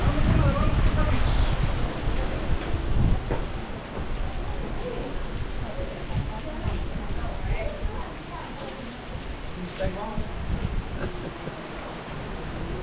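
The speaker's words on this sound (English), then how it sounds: "Here comes the rain." Steady heavy rain falling on a high mountain trail in North Georgia, a dense broadband hiss throughout at moderate level, with no clear speech.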